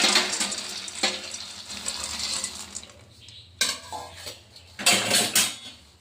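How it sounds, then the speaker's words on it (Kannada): Raw peanuts tipped into a pan for peanut chutney powder give bright metallic rattles and clatters in a few separate bursts, close by and with no voices. "ಇದಕ್ಕೆ ಶೇಂಗಾ ಬೀಜ ಹಾಕ್ಕೊಳ್ಳೋಣ."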